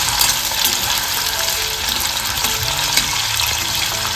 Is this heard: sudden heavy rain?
no